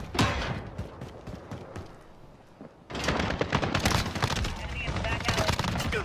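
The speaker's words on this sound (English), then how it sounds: "Where are them shots coming from?" Gunshots in a first-person shooter match, a steady patter of distant shots that swells into a louder, denser barrage partway through, with talk over it.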